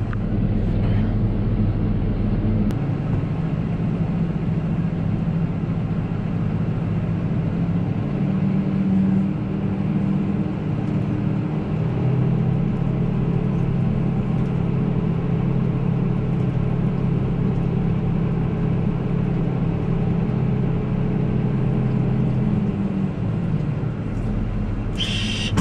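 A Huddig backhoe loader engine runs at a steady deep rumble while the machine reverses, close and continuous for the whole stretch without a break.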